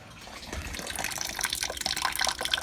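Coolant draining out of a MK4 Volkswagen Jetta, a steady close gushing and splattering stream of liquid that grows slightly louder and more spattery over a few seconds, with no talking.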